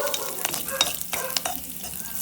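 Oil sizzles and crackles in a pan with mustard seeds and curry leaves frying for a tempering, quick spattering pops and occasional scraping of a spoon, no voices.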